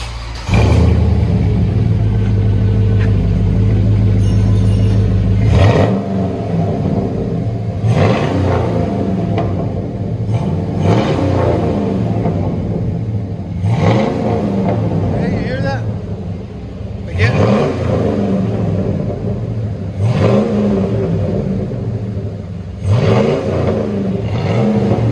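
A 2002 GMC Yukon Denali's 6.0L V8 breathing through Flowmaster Super 10 true dual exhaust revs repeatedly, each blip rising and falling in a rhythmic series after a steady idle rumble, with voices talking over it.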